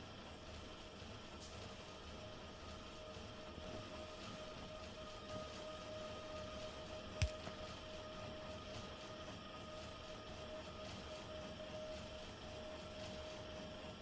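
Trains run on rail lines in the video game Factorio, a steady synthetic rumble and hum that holds level throughout, with one brief sharp click near the middle and no talking.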